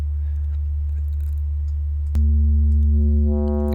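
Low sustained sine tone from a Sylenth1 synthesizer, a pure bass hum that jumps to a louder, brighter pitch midway and then gains a faint upper harmonic buzz.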